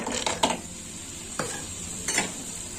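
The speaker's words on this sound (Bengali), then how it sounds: "বড়িটা একটু হালকা করে ভেজে নেব" Lentil dumplings (bori) frying in white oil, a soft background sizzle broken by three or four sharp scraping clinks of a spatula moving them around the pan.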